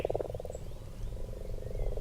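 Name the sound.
frogs calling by a lake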